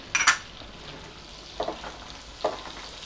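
Finely chopped garlic and green chillies sauté softly in butter for corn and spinach soup, a faint low sizzle broken by a few brief spoon-against-pan stirring clinks, without speech.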